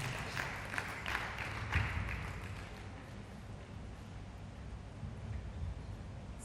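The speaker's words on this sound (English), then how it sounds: "A round of applause for him." Applause from an audience at an IIM event, steady and moderately distant, holding at an even level for the whole stretch with no voices over it.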